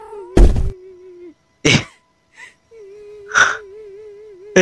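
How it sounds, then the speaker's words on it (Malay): A person crying in the Indonesian horror video game Mata Batin, drawn-out wailing moans broken by sharp gasping sobs and short thuds, loud and close with quiet gaps between. "Ada suara orang menangis guys."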